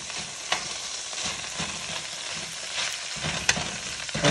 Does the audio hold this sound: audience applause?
no